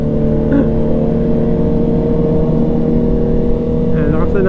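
Loud, continuous exhaust from a Honda CB650R motorcycle drones close up, holding a steady revving tone with faint voices underneath.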